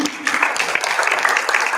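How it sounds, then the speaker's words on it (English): Brief applause from an audience at a tech event for a speaker, a short patch of scattered, moderately loud clapping with room noise and a murmur of voices. "A round of applause for him again."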